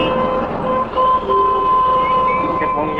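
Traffic near Howrah Bridge in Kolkata, with a sustained train or vehicle horn tone ringing over the busy street noise and a voice talking through it, then brief honks near the end.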